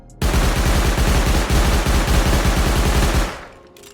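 Rapid automatic gunfire from a weapon fired during recoil testing in Rust Console Edition, a loud continuous burst of quick shots that runs for about three seconds before cutting off.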